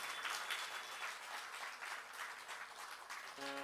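Audience at a Hindu spiritual discourse by Acharya Shri Kaushik Ji Maharaj claps steadily throughout at moderate level, a sparse, somewhat subdued applause ending as a sustained musical tone enters.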